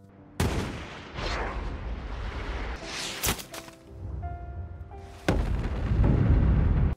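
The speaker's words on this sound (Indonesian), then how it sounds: "Chris sontak membidik dengan tenang dan melesatkan tembakan" Sniper rifle fire from the 2014 film American Sniper: several sharp, loud shots ring out with heavy booming rumble and battle noise between them, the last blast sustained and loudest.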